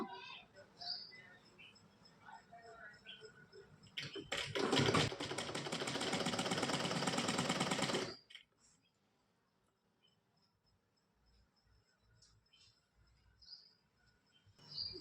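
A sewing machine runs in one loud, rapid, rhythmic burst of about four seconds while stitching along a blouse edge, with quieter handling sounds and soft talk before and after.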